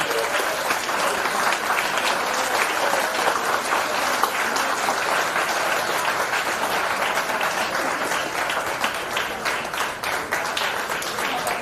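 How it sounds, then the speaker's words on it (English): Sustained, even applause from a seminar audience welcoming a guest at a college national-level seminar, many hands clapping steadily at strong volume for over ten seconds, with no speech over it. "A big clap for sir's presence"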